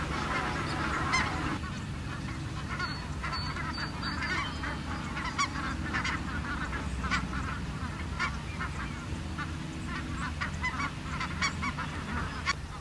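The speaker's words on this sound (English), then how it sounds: "the geese rose up in vast numbers, riotously honking as they headed to the safety of the ponds for the night" A huge flock of geese honks riotously at evening as they fly toward the ponds of the San Luis National Wildlife Refuge, a dense, steady chorus of overlapping calls carrying on throughout with no talking.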